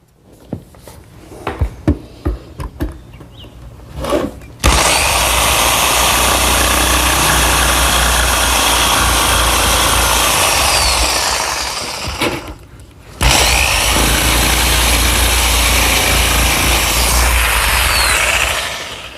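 A circular saw rips through a melamine panel guided along a triangle square in a workshop, with a few handling knocks, then a loud sustained whining cut that dips briefly before roaring on and stopping, close and dominant.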